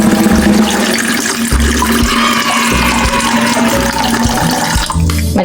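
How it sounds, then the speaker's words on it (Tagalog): Tap water runs steadily into a cooking pot for ramen, a loud continuous rushing and splashing stream that fills the whole stretch without pause. "lalagyan na natin ng tubig. Dito ako lalagay ng water."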